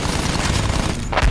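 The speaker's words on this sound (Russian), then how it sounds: "Проверь пулеметы! Огонь по готовности!" Sustained machine gun fire in the World War I shooter Battlefield 1, a dense, loud continuous burst of rapid shots with a heavier boom near the end, no voices over it.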